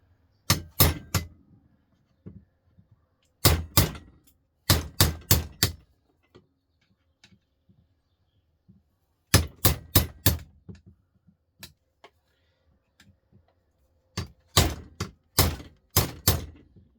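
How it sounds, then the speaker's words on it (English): Sharp metallic strikes of a hammer on a chisel against a washing machine pump, coming in quick bursts of three to five blows separated by short pauses, loud and close. "I get to chisel and hammer and hit on the outside of it"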